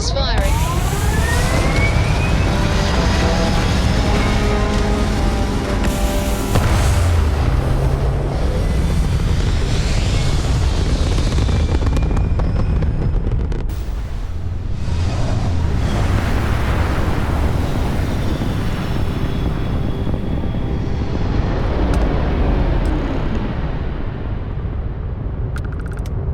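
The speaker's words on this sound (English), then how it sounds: "All thrusters firing." Spaceship thrusters firing in the video game Starfield, a loud, continuous rumbling roar with bursts and swells throughout, mixed with game music and effects; no one speaks.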